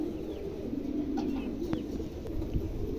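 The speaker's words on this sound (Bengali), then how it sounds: "প্রিয় দর্শক এখানে একজোড়া মন্ডি আছে, দেখেন চমৎকার একজোড়া, একদম নতুন নিউ ডাল কবুতর" Pigeons at a bird sale coo softly and repeatedly, low murmuring calls close by over a faint background hum.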